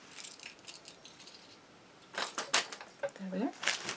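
Car keys carrying a Disney keychain jangle and clink in a brief flurry of bright metallic rattles during the second half, quiet handling noise before it, with no talk.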